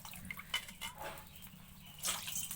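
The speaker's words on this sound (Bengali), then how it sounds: "ডালগুলোকে আমরা দিয়ে দিচ্ছি" Khesari lentils tipped into a wok holding plenty of water, giving a soft splashing, dripping pour with a brief wetter rush near the end, close and quiet with no talk.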